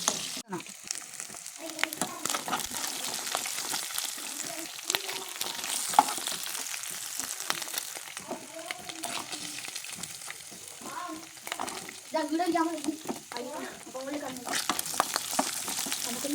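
Oil sizzles and crackles steadily in a pan as fish pickle is fried, the close frying sound continuing throughout with occasional stirring, while a voice talks intermittently over it.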